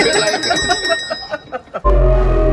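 A bright bicycle-style bell rings several quick times in a row, followed by a sudden heavy, low burst of a different sound.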